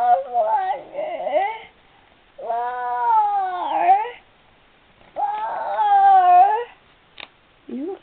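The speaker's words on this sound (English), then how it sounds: "He's just meowing." A cat meows loudly several times, long drawn-out cries with pauses between them, close by and with no speech.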